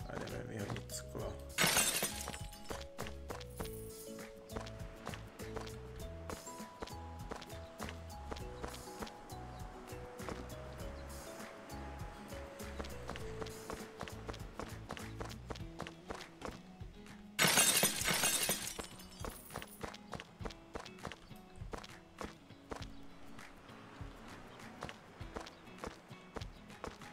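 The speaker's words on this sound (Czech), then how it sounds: "A jdeme vyhodit sklo." Glass is tossed into a waste container at a train station renovation site, with two loud shattering crashes separated by long stretches of footsteps, rustling and background music.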